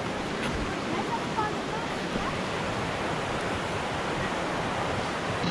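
A cold mountain river rushes steadily beside tents at night, a dense broadband water roar that holds constant throughout and fills the space up close.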